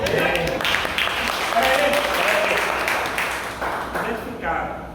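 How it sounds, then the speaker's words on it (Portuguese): Church congregation applauding, a dense, sustained burst of many hands clapping in a reverberant hall, loud at first then gradually thinning, with voices mixed in. "vocês têm que aplaudir."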